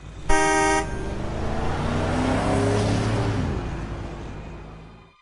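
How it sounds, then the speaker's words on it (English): A car sounds a sharp, loud horn beep once as it speeds past nearby, its engine roar swelling and then fading away as it goes. "A car beeped as it raced past exactly where I would have run to"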